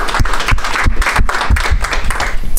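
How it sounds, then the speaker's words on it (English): A conference audience at a Rust programming talk applauds loudly and continuously, a dense wash of many hands clapping close by with no voices over it. "let's give a round of applause for Teemu."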